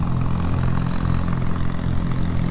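Steady, close engine note from a running BSA A10 650 motorcycle, a smooth continuous drone with a deep low-end pulse and no talk over it.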